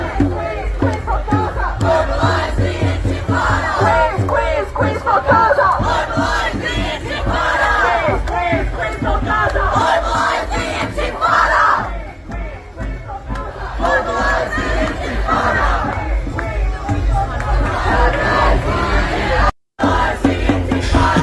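A large crowd at a gathering in Washington, D.C. shouts and roars loudly and continuously, overlapping voices and yells swelling in waves with a brief dropout near the end.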